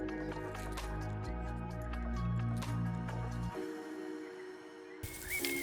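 Strawberry plant roots, freshly loosened from soil, are swished and rinsed in a container of water, giving soft squishy sloshes and drips under steady background music.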